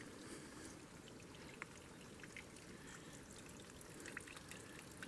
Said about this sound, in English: Enjoy all the little bubbles and drips.